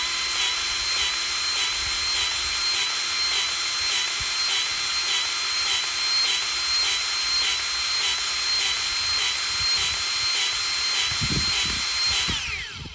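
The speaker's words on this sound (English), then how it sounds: "there it is, the Milwaukee M12 battery-powered grease gun" A Milwaukee M12 battery-powered grease gun filling a bearing's grease cavity, its motor running in one steady, loud, close whir for over twelve seconds before winding down.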